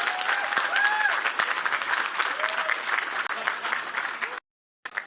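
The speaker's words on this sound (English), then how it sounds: "I would encourage you to applaud her." Crowd applause fills an election night event for a primary runoff, with a few whoops and voices riding over the steady clapping before it cuts out near the end.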